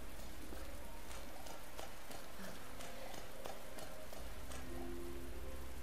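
Steady rain falls throughout in Resident Evil 2 Remake, a soft continuous patter at low level with a few faint taps and clicks mixed in.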